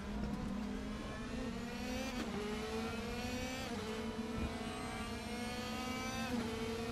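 Race car engines in the Raceroom VR racing game snarl and rev steadily at close range, the pitch climbing and dropping through gear changes with no voices over the sound.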